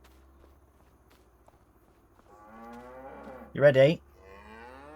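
Cattle on a farm, one loud close moo rising near the end over low harmonic lowing and a soft steady rumble, with a brief spoken question just before.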